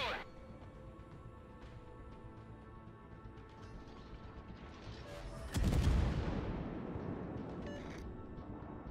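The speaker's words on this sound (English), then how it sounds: "Now you're being cross-shot from those other battleships" Battleship artillery fire in a naval game set around Alaska: a low, distant rumble builds into a heavy boom with a long rolling decay over steady ambient hum.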